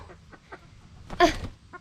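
Backyard hens cluck softly near a garden, giving a few faint scattered clucks and then one louder, sharper squawk toward the end. No one speaks.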